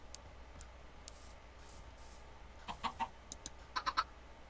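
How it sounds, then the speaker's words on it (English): A chicken clucks in a blocky Minecraft-style video game: faint scattered chirps over a steady hiss, then a quick burst of several short clucks near the end, with no talk. "I wonder what it looks like when you ride a chicken."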